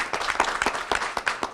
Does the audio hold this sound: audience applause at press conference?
yes